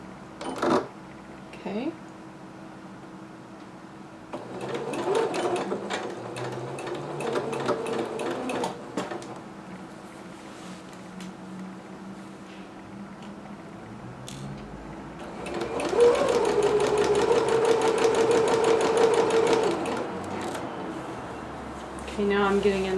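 A home sewing machine runs a permanent stay stitch along a basting line on a McCall's M6701 dress, in bursts of rapid mechanical whirring separated by pauses, the longest run at the end, with a brief spoken word early on.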